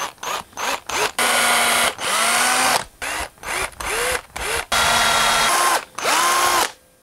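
A power drill bores holes into a wooden lipless crankbait, its motor whirring up in repeated short and longer bursts with quick stops between, close and clear with no talk.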